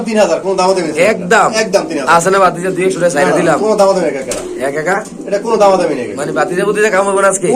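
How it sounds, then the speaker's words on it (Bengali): Pigeons coo in soft, repeated throaty phrases up close at a pigeon market, mixed with people talking over and between the calls. "এত সুন্দর কবুতর"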